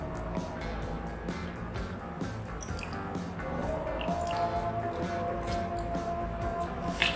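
Half a lemon is squeezed into a basil seed drink, giving close, wet squishing and dripping that runs continuously against a soft background hiss.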